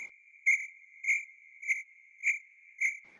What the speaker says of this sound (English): Insert crickets here